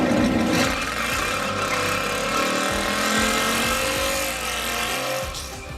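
A 1970 Oldsmobile 442 W30 muscle car engine runs steadily and loud throughout, a dense continuous roar without pauses or voices.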